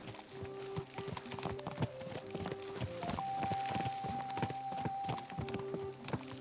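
Rhythmic hoofbeats of a horse in the video game Kingdom Come: Deliverance II clip-clopping along over a steady musical backdrop, moderately loud and continuous.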